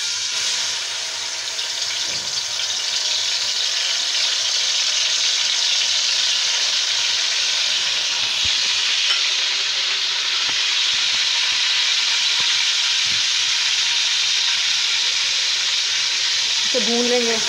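Steady loud sizzling and hissing of garlic and ginger frying in a hot pan, continuous and close throughout with no break.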